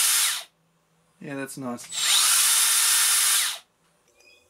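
A Makita 18V cordless belt sander (XSB01/DBS180) whines loudly in two bursts, broken by a brief pause where a person speaks, then runs steadily before cutting off.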